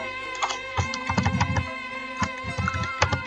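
Rapid clicking of keys on a computer keyboard while entering a font name during a Javanese script font installation, a steady close patter of keystrokes with no talking.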